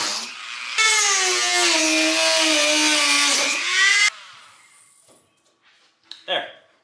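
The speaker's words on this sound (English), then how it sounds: "Dremel time." A Dremel rotary tool whines loudly and steadily while cutting the lower cowl plenum panel on a Jeep Gladiator Rubicon, then stops abruptly, followed by quiet rustling and a short voice.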